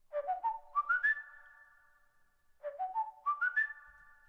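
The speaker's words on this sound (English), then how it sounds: "And then I have some whistles that I added on top as well," A bright, layered whistled melody rises in quick steps to a held note, then repeats the same phrase after a short pause.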